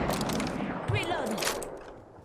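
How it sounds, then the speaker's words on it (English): Rapid bursts of gunfire from an Apex Legends match, including a Flatline rifle, crackle in clusters through a busy game soundscape while voices talk over it. "What are you shooting at?"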